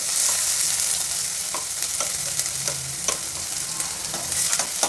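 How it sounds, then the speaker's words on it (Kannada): Finely chopped onion frying in oil, a loud, steady sizzle with scattered crackles and a few stirring scrapes against the pan, close and continuous with no talking. "ಈಗ ಸಣ್ಣದಾಗಿ ಹಚ್ಚಿರೋ ಒಂದೇ ಒಂದು ಈರುಳ್ಳಿ ಹಾಕ್ತಾಯಿದ್ದೀನಿ"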